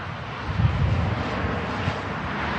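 A Ryanair airliner landing in gusty wind at Manchester Airport, a distant steady engine roar with buffeting wind noise on the microphone, continuous and moderately faint.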